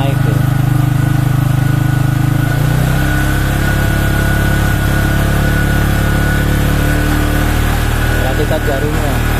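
A Yamaha Vixion motorcycle engine runs loud and close, idling with a rough low throb and then revved up to a higher steady pitch that holds, with someone speaking briefly near the start.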